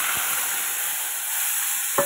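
Spice paste frying in hot oil tempered with nigella seeds, a constant bright sizzle with a soft stir at the start and a sharper scrape near the end.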